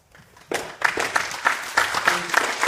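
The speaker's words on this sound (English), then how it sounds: "if I could please ask for us to hold the applause" Audience applause at a candidate forum, a quiet start swelling into loud, steady clapping from a roomful of people, with individual claps standing out in a rapid rhythm.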